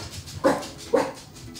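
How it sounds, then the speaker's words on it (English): A house guard dog lets out two sharp, close barks about half a second apart, with quiet room tone in between. "Excuse us while our guard dog takes care of the bad guys."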